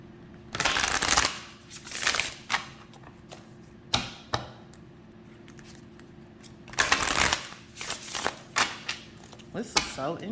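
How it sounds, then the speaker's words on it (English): Tarot cards are shuffled in several riffling bursts with pauses between, close and fairly loud, with a soft voice now and then. "Let me pull these cards."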